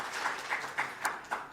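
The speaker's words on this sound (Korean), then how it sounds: "박수로 환영하겠습니다." A church congregation at a Sunday service applauds to welcome newcomers. The clapping is soft and fairly distant, rising in several gentle swells, with no speech over it.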